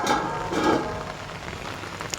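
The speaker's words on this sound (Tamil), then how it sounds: "ஏன்னா மழை பெய்யுது" Steady rain falls and patters on surfaces outdoors, a continuous broadband hiss with a few louder drops, while rainwater is being collected in a vessel.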